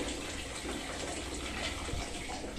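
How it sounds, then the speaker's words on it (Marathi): Water leaks from a loosely fitted household pipe fitting, a dense continuous gushing spray heard close and fairly loud, with no pauses. "बरंच पाणी लिकेज होतंय"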